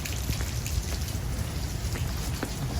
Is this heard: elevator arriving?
no